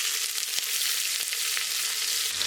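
Thinly sliced onions sizzle and crackle steadily in hot oil in a pan for beef mandi, a close, continuous frying hiss with no voices.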